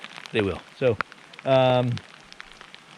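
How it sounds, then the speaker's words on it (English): Rain falls at Snow Lake in Mount Rainier National Park, a soft, steady hiss of drops that runs faintly beneath a few short bursts of close speech. "it is raining sideways"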